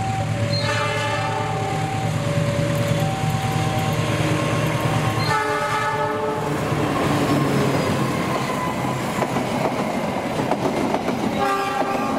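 Priok Cargo 2532, a long freight train of 30 wagons with only 12 loaded, rolls past close by in the afternoon, sounding repeated loud horn blasts over continuous rumbling and clickety-clack wheel noise.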